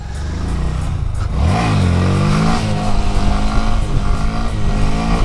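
A car engine revs up with a mild, muffled stock exhaust tone, rising and holding steady at a moderate, close-up volume.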